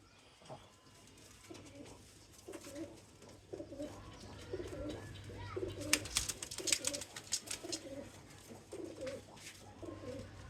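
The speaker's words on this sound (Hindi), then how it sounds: "ये देखें दोस्तों, ये डब वाले कबूतर दोस्तों बड़े कम कराची में देखने को मिलते हैं।" Dub pigeons cooing in a loft in Karachi, with repeated soft rhythmic coos close by and fluttering and scuffling bursts midway, plus faint background voices.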